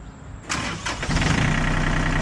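A John Deere 3036E 36-horsepower tractor engine cranks briefly, catches, and settles into a loud, steady idle close by. No voices.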